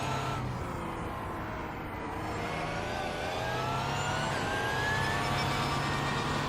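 An Audi R18 race car engine in the iRacing video game at Sebring International Raceway drones loudly and steadily throughout, its pitch climbing gradually with a rough, buzzing tone.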